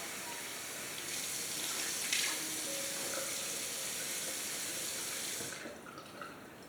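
Running tap water splashing steadily into a sink as a Wilkinson Sword safety razor is rinsed between shaving passes, a continuous close hiss that eases off near the end.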